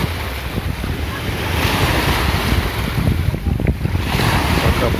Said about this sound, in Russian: Пока понаблюдаем за волнами.